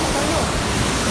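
A waterfall pouring into a jungle stream, a steady loud broadband rush of falling water that stays constant throughout.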